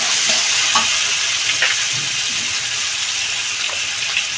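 Peas tipped into a papaya curry (rasa) sizzling in the pan, stirred with a few scrapes and soft clatters over a steady, close frying hiss, with no one talking.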